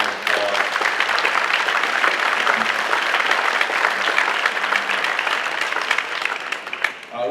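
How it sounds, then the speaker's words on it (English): A room full of people gives a sustained round of applause for the Fleetwood boys basketball players at an athletic awards ceremony, a dense, steady clatter of clapping that fades slightly near the end. "Let's give these guys a round of applause."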